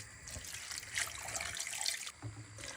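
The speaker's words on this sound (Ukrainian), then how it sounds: "Спочатку на великий, заливаєте холодну воду." Cold water runs from a tap into a large cooking pot for soup, a steady close splashing and trickling stream that stops briefly near the end.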